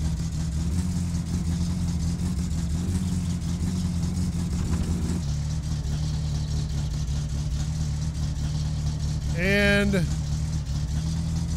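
A car engine in My Summer Car, fitted with a racing radiator and exhaust, idles with a steady low rumble that shifts pitch partway through while someone talks over it.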